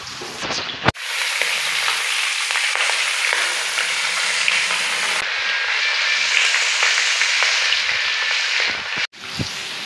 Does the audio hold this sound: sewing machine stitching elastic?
no